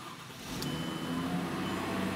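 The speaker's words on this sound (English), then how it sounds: "Let's go ahead and start the engine." A Mercedes-Benz car engine cranks and catches, then settles into a steady, fairly loud idle running alone and close by, with no talk over it.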